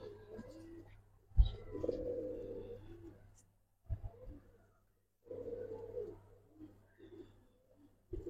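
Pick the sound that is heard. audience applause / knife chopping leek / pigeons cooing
pigeons cooing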